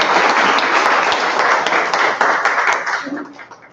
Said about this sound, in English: We can clap for ourselves as well.